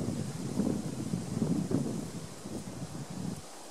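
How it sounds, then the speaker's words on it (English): Wind gusts blow across a Suffolk churchyard at Shelland, a rushing, buffeting roar with microphone rumble that swells and eases before dropping off at the end. "The wind is coming up, so we'll just take some shelter from the wind."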